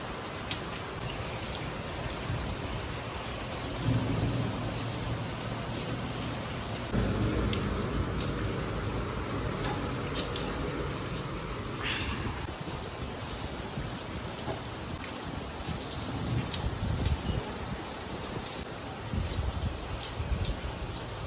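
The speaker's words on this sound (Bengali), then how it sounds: "কি সুন্দর লাগছে বৃষ্টি হচ্ছে" Steady rain falls outside an open window, a dense wash of drops hitting surfaces with a few low rumbles of thunder, continuous and fairly close.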